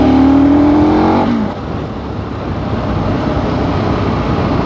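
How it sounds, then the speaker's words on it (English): A KTM 1290 Super Adventure motorcycle riding a small country road, its engine loud and close with a steady tone that drops away after a second into a continuous rushing drone of wind and engine. "KTM is a sport bike."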